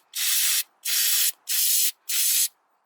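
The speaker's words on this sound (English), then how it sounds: "I'm gonna use some brake clean." Brake cleaner sprayed onto a car's brake parts during a steel braided brake line install: four short, loud, hissing aerosol bursts of roughly half a second each, evenly spaced and close by.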